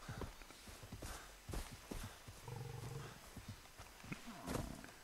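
Growling buffalo in the Far Cry 3 video game, low rumbling growls rising among scattered footstep-like thuds and knocks, moderately close and without speech.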